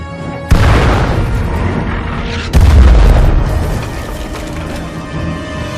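Cannon or artillery fire in a war movie: two heavy booms a couple of seconds apart, each loud and close, followed by a rumbling, fading tail.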